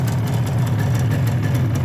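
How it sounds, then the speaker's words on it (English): A Suzuki GT250 X7 motorcycle engine idles close by, a steady low, even hum that ticks over smoothly with no rattles, heard alone. "listen to that engine, how quiet it is"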